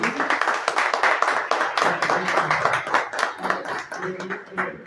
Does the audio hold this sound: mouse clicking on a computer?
no